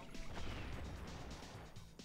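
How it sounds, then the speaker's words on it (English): Bubble explosion in the SpongeBob SquarePants Battle for Bikini Bottom video game, a muffled, low crashing burst with a brief whooshing tail, heard faintly and alone. "It's an explosion."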